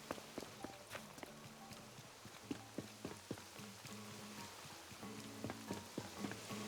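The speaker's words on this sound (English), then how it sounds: "A rainy day. Guess we should put on our umbrella." Steady rainfall in the video game Animal Crossing: New Horizons, a soft continuous patter with light drop taps, mixed under gentle plucked game music that runs throughout.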